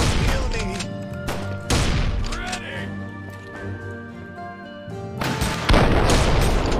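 Rocket launcher blasts in the video game Story of the Olivia, several loud booming shots spaced a second or two apart, each with a sharp crack and rumbling tail, with a voice talking between them.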